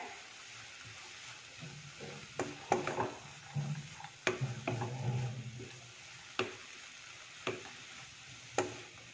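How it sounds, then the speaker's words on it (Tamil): Shredded cabbage tossed with salt and turmeric in a pan for Andhra-style cabbage fry, heard as close, irregular spatula scrapes and sharp taps against the pan over a faint sizzle. "நல்லா மிக்ஸ் பண்ணி விட்டுக்கோங்க சால்ட்டு மஞ்சள் எல்லாம் எல்லா சைடும் படுற மாதிரி நல்லா மிக்ஸ் பண்ணி விட்டு"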